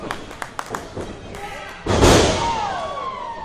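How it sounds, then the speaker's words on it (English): Pro wrestler slammed down onto the ring canvas in a steel cage match, a heavy thud and rumble that rises above crowd noise and an excited commentator's voice. "drives him straight down to the canvas"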